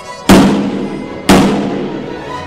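Two hard, sharp blows strike the tempered outer glass of a VELUX roof window, about a second apart, each a loud close impact with a short ringing decay and no breakage.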